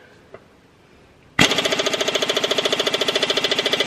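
Power impact wrench working on a corroded bolt on a farm truck, starting abruptly after a short quiet stretch into a loud, close, steady rapid hammering rattle that continues to the end.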